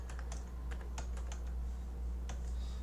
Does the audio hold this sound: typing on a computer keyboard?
yes